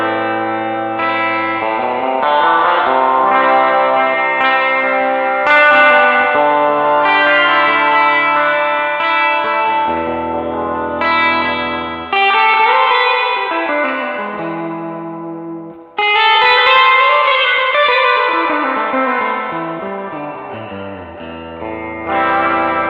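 An electric guitar through a SurfyBear Classic spring reverb tank plays sustained, distorted chords and melodic lines soaked in lush reverb and echo, loud and continuous with swelling tails between phrases.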